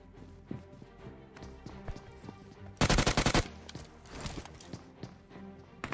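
A short, rapid burst of automatic gunfire in a shooter video game stands out loudly for about half a second amid quieter footsteps and game ambience, with no talking.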